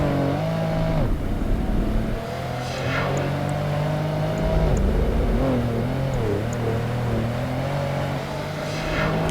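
Race car engines in the Project Gotham Racing 2 video game, Classic Series, drone loudly and steadily throughout, with rising and falling revs and gear shifts.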